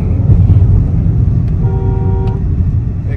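A Mahindra XUV 3XO petrol automatic SUV accelerating hard, with a loud, close, low engine rumble and droning road noise that holds steady throughout.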